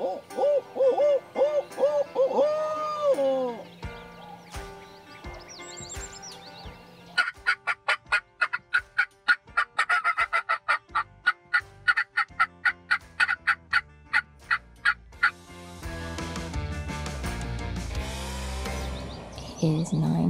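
Wild turkeys gobble during a South Carolina spring hunt, with bursts of rapid, rattling gobbles and hooting bird calls alternating with dense chattering sequences, loud and near across the stretch.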